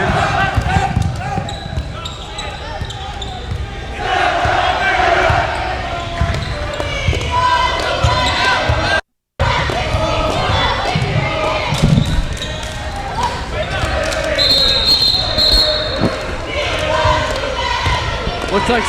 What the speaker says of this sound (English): Sterling faithful being loud, even when they're up by 32 points.